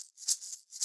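Two or three soft, rhythmic shaker swishes from a looped sample that has been pitched down and low-pass filtered, each hiss swelling and fading, heard alone.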